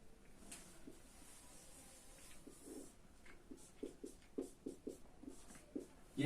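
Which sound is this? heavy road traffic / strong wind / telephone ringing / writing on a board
writing on a board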